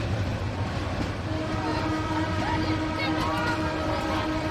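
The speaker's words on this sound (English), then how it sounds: "It's a long ass train." A long, crowded passenger train passes with a continuous loud rumble and rail clatter, and a horn sounds over the noise. No one speaks.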